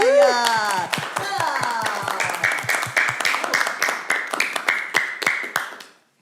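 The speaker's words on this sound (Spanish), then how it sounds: "¡Un aplauso para ella!" An audience claps for a guest at a school event. A brief voice at the start gives way to a dense burst of applause that thins into scattered individual claps and fades out.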